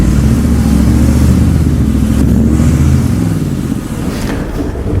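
A Mercedes-Benz G55 AMG's engine growls loudly up close, with a deep, sustained rev that eases slightly toward the end.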